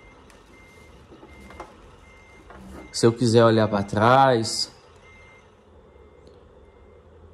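Reversing beeps from a Scania truck sound in a truck simulator game, a quiet repeating alert running beneath a man's speech in Portuguese.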